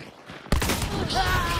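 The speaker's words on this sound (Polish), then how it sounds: "Trzeci strzał w klota i nie padł!" A gunshot rings out suddenly in the video game Hunt: Showdown, a sharp loud blast followed by a reverberant tail and mechanical clatter, with a faint voice underneath.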